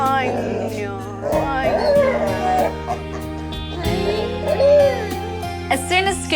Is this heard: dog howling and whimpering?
yes